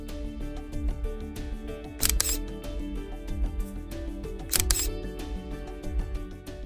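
A camera takes a selfie with a group, two short bursts of shutter clicks over continuous background music.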